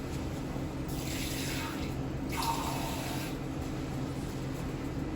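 Water pours from a container into a bowl of meat coated in spice paste during home cooking of a meal kit, two soft splashing pours, fairly faint, against steady kitchen background noise.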